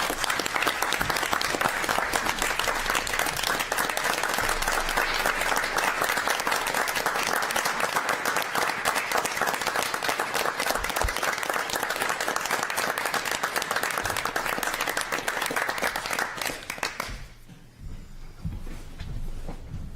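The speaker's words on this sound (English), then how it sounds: "can the folks here join me in a round of applause for Officer Jones?" Sustained audience applause fills a city council meeting chamber, many hands clapping loudly and steadily for about seventeen seconds before tapering off abruptly into a quieter room.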